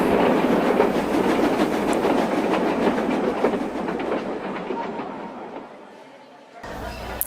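A long goods train rumbles past, rhythmic clickety-clack of wagons over rails, loud and close, fading toward the end before a brief burst of noise.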